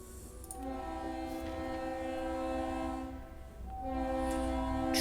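A train in the card game Slay the Spire sounds a sustained, loud horn blast with steady chugging beneath, the horn cutting briefly then returning strongly near the end.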